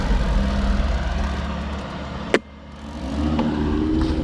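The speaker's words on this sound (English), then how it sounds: "Stop for the cars." A car passes at night on a slow residential road, its engine rumble fading out, followed by a sharp click and then another vehicle approaching, heard close from a bicycle.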